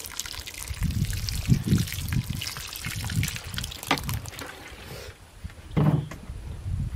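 Water poured onto newly planted vegetable plants in a herb garden, a close gurgling trickle and splash that rises and falls in bursts, briefly pausing before another pour.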